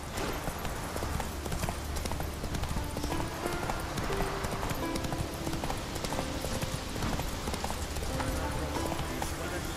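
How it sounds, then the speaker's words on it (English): Hooves of the horse Roach clip-clopping steadily in The Witcher 3 video game, a continuous rhythmic trot mixed with game ambience and music, fairly loud throughout. "Whoa there, Roach."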